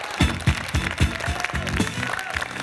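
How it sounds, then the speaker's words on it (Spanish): Studio audience applause on a Bolivian game show, clapping under a bouncy musical sting with a strong rhythmic beat, moderately loud and continuous. "un aplauso para este amor."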